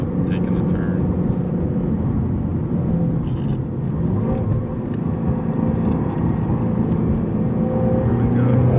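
Whipple supercharged 950 hp Shelby GT350 driving through turns with stiffened suspension, a continuous loud engine drone heard from inside the car, rising and easing through the corners while occupants talk over it.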